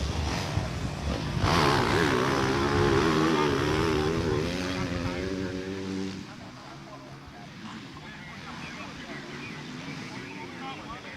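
Kawasaki motocross motorcycles race around the Silver Rock Bike Park track in Loei during a Thailand Junior Pro MX2 event, engines droning and rising in pitch at a moderate distance while a commentator talks over them.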